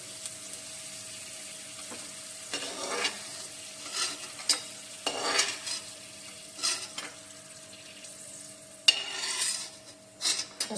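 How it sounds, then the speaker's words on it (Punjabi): Garlic frying in a pan on a gas stove, with a steady soft sizzle and scattered scraping and stirring clinks as it is scooped out into a small bowl. "ਹਾਂਜੀ ਸਾਡਾ ਲਸਣ ਜਿਹੜਾ ਲਾਲ ਹੋ ਗਿਆ ਹੁਣ ਸਿਮ ਤੇ ਕਰ ਦੋ ਗੈਸ ਨੂੰ ਔਰ ਲਸਣ ਜਿਹੜਾ ਸਾਰਾ ਨਿਕਾਲ ਲਓ ਇੱਕ ਕਟੋਰੀ ਦੇ ਵਿੱਚ"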